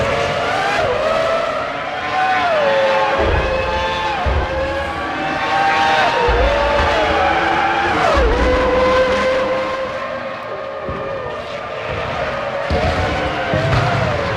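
Formula One race cars in the pit lane at the French Grand Prix in the game Formula One 05, engines whining and shifting pitch as cars pass and brake, loud and continuous with overlapping revs.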